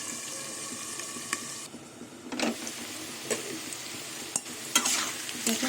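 Potato and onion pieces fry quietly in a pan, a soft steady sizzle broken by several sharp stirring scrapes and clinks.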